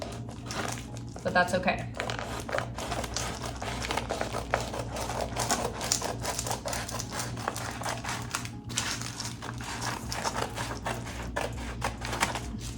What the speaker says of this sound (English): use my razor knife to make a straight cut